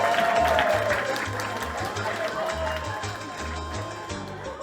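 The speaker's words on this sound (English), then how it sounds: "Let's give him a round of applause." Applause from an audience at the World Cosplay Summit, a moderate patter of clapping hands with background crowd noise and a low thumping beneath.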